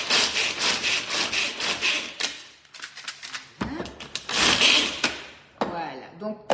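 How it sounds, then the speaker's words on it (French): A Tornado food chopper grinds hazelnuts in loud, repeated bursts of rough whirring, pausing briefly between pulses before starting again, with no voices over it. "on va prendre ici le Tornado et on va hacher les noisettes"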